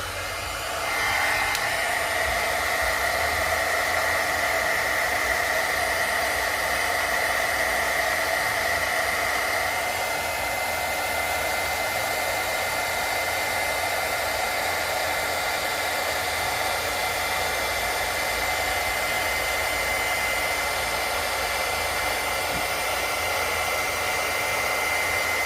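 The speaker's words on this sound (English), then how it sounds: "Turn on our heat tool." Steady, continuous blowing whoosh of a handheld crafting heat tool running for Christmas card making, loud and unbroken throughout with a slight shift in tone partway, no talking.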